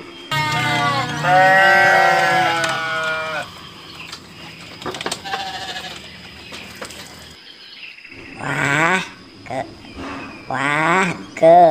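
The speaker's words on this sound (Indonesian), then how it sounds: "Ini domba" Sheep bleat loudly and close by outdoors in nature, several wavering calls in bursts, with someone speaking in between.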